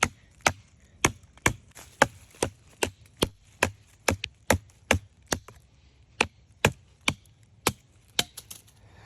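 Wood being chopped with a Milwaukee duct knife outdoors, a steady series of about eighteen sharp, close chopping knocks at a regular rhythm with no talking.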